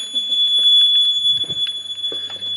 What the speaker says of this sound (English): That wasn't even me doing the call point there, that was a detector went off.